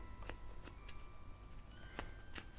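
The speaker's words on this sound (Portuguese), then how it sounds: "com a pontinha da tesoura, ó, fiz uma aberturinha aqui" Small scissors snipping a little opening with the tip, a handful of crisp, separate cuts spaced irregularly over a faint background hiss.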